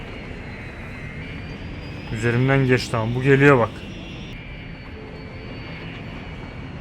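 An airplane drones in steady broadband roar while landing at an airport in the city-builder game Cities Skylines; someone talks loudly over it in the middle.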